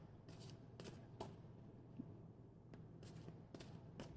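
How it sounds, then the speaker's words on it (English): An oracle card deck being shuffled by hand, quiet riffle bursts repeating about every half second to a second, close and soft with a faint low hum beneath and no talking. "I'll shuffle again and we'll just do a couple of clarifiers."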